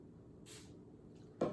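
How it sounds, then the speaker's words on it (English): DIY hand sanitizer squirted from a spray bottle onto hands: two brief hissing spritzes, the second sharper and louder, close by in a quiet room. "I think 2 squirts is good."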